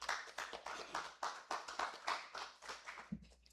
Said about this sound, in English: Let's give a more organized round of applause for Professor NGUKA